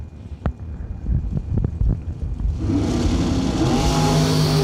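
A drag racing dragster launches down the lane, a few sharp engine blips giving way to a loud, sustained roar of acceleration that fills the clip at close range.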